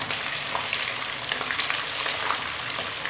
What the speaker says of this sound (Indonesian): Ini digoreng dulu, diaduk-aduk